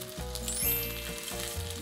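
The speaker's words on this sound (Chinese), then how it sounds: "然后接缝处朝下，然后去煎到它是表面都是金黄色" A rolled cheese wrap, seam side down, fries in hot olive oil in a pan, giving a steady, close sizzle with light crackling and no talking.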